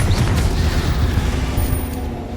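Bombarda and Confringo blasting spells in Hogwarts Legacy, a loud cluster of booming explosions with rumbling low-end impacts that roll and gradually fade.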